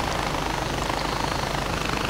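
A helicopter flies in the video game Far Cry 4, its rotor producing a loud, steady rhythmic chop and engine drone throughout, with no speech.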